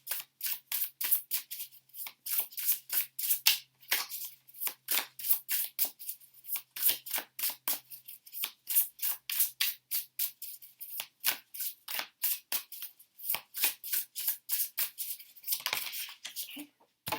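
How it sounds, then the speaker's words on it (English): Tarot cards shuffled by hand in a steady run of crisp, rapid riffling bursts, close and fairly quiet, with brief pauses and soft speech now and then between them. "Shuffling for the tarot cards."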